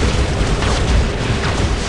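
Weapon fire from the War Robots mech combat game: a dense, continuous barrage of loud booming blasts and bursts that overlap with no gaps, with no one talking.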